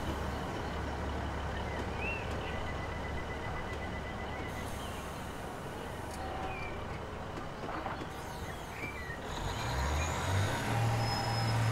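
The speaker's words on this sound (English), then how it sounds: "Oh, there's another train." A London Overground train rumbling past near Blackhorse Road station, loud and continuous, with a faint high whine and a deeper low roar swelling near the end.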